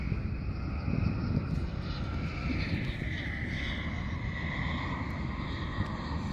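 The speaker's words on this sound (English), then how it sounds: "Beautiful Airbus." An Airbus airliner at DFW airport roars steadily with broad jet-engine rumble and shifting whooshing tones, fairly loud and continuous throughout, with no talk over it.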